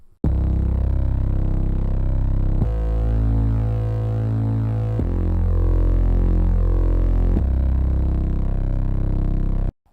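A giant, booming bass enters a song's chorus, sustaining loud chords that shift every couple of seconds beneath the mix, with no voices present.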